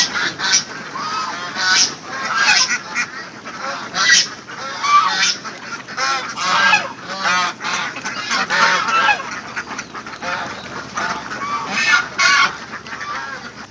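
A flock of ten-month-old Khaki Campbell ducks calls loudly and continuously while feeding on a duck farm, overlapping quacks and honks rising and falling close by.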